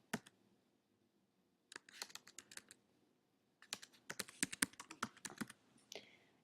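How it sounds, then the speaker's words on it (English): Email address typed on a computer keyboard, quiet close key clicks arriving in a short burst, a pause, then a faster longer flurry of keystrokes, with no speech. "if you want to add someone by email, you can just type in their email"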